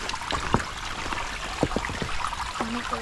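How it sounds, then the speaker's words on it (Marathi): A small stream of water trickles along a trail on the way up Karnala Fort in Maharashtra, a steady close babble with scattered bright splashes and drips throughout. "तुम्ही आवाज ऐकू शकता पाण्याचा"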